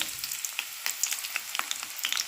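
Onions frying in a hot pan on an electric coil stove, a steady crackling sizzle with sharp pops and spits scattered throughout, close and continuous with no talking.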